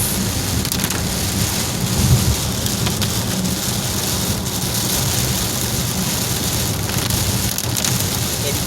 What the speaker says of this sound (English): Enjoy the sound of the rain.